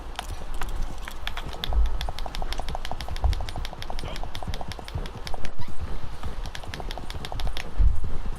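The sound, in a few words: horse hooves in a video game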